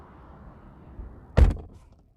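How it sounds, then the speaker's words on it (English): A single close, solid thunk as the door of a 2020 Ford Mustang EcoBoost Performance Package is shut from inside, with a brief rattly tail and quiet surroundings before it. "And now shutting the door"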